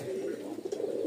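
Light-coloured pigeons cooing softly in a low, steady murmur, a pair of male and female birds among others close by, with no voices over the brief sound.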